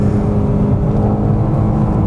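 Mercedes-AMG GT 63S 4-door coupé, a 2,000 kg car, accelerating out of a corner on a track, its engine a steady, loud, dense drone that holds without a break.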